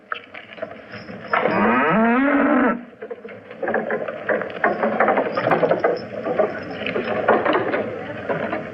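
A cow on a frontier farm near a fort lets out one long, loud moo in the middle, with soft outdoor rustling and faint voices before and after.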